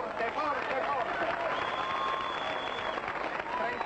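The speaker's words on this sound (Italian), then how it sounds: "E complimenti ai giocatori, un applauso forte, forte, forte." A crowd applauds players at a football club's promotion celebration for Nardò, steady broad clapping and cheering filling the whole stretch, with voices in the crowd mixed in.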